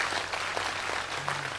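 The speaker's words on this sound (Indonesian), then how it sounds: "tepuk tangan untuk kemesraan kita pada malam hari ini" An audience clapping at an evening Sinau Bareng gathering with Cak Nun and Kiai Kanjeng, a dense continuous patter of many hands filling the whole moment with no talk.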